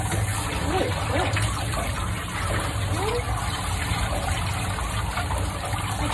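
Water running steadily during a cat's grooming rinse at home, a constant close splashing flow with faint voices and small sounds underneath.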